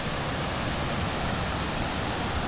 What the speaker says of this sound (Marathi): तिकडे परत एक धबधबा आहे